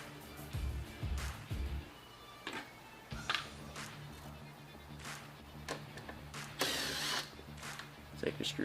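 A Toro Recycler mower is worked on with a screwdriver and wrench, making scattered close mechanical clicks, ratcheting and metallic handling sounds, with a voice heard briefly.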